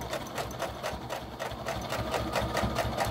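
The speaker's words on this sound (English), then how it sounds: "That's stitching." A sewing machine stitches continuously through fabric for a travel brush holder project, giving a loud, steady mechanical whir with a fast, even needle rhythm throughout and no voices.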